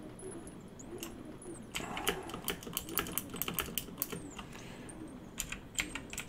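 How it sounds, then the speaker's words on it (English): Computer keyboard keys are pressed rapidly in a flurry of many sharp clicks, a steady quieter tapping at first, then louder, denser bursts of keystrokes. "We're just gonna press every button on the keyboard like we do sometimes and see if that fixes it."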